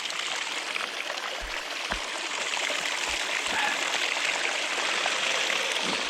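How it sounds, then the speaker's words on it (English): Water pours steadily from a pump outdoors, a continuous close rushing splash with a few low bumps and knocks, and no talk over it. "Water's going good, nice and clean."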